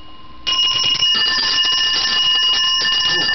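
A bell rings continuously and loudly up close, a bright sustained metallic ringing with steady high tones and no talking.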